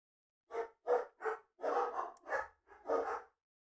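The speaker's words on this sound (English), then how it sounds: "I might have to mute myself because they're gonna bark even louder." Several dogs barking indoors, seven short muffled barks in a quick uneven series, moderately loud and heard alone.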